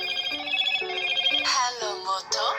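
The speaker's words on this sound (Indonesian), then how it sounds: "Yang paling gue suka itu sound-nya, ringtone-nya itu masih ringtone bawaannya dipertahanin loh." A Motorola moto G45 5G plays its default built-in ringtone, a bright melodic phone tune with stepped tones that grows fuller and busier partway through, heard clearly up close without talk.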